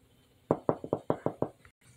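Seven quick knocks rap on a door in a brisk, slightly uneven rhythm, clear and close, followed by a brief silence and faint room noise.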